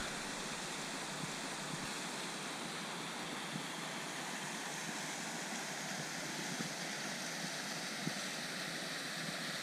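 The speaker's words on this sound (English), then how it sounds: "That's a waterfall there, guys." Chattlehope Spout waterfall in Northumberland roars as an even, unbroken hiss of falling water, steady and fairly loud throughout, with no voices over it.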